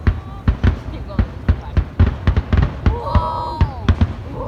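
Fourth of July fireworks bursting overhead in a rapid series of sharp booms and crackles, spaced irregularly, with people exclaiming and talking between the blasts.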